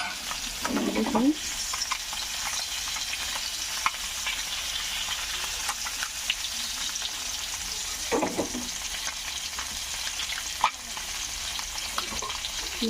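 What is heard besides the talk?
soya chunks frying in a pan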